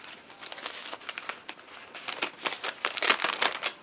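Old paper diary entries from 2007, stuck to other paper, crinkle and rustle as they are handled, giving close, irregular bursts of crackling that grow busier and louder toward the end, with no talking.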